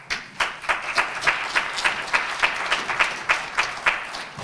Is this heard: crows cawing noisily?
no